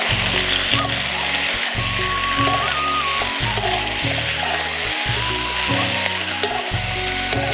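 Pre-fried vegetables and vegetable stalks sizzle loudly and steadily in a pan for a Bengali malabar spinach and shrimp dish, with rhythmic thumps and scrapes of stirring running throughout.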